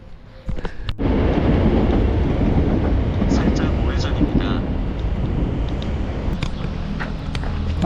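Steady loud rumbling of a moving train to Kalambaka, Greece, with broadband rattling noise, continuous throughout after a brief quieter start, with faint voices underneath.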